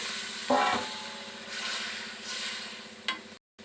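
Cashew and mustard paste frying in a pan, a soft sizzle with an early clatter and a later sharp splash as water goes in, brief and close with no talk.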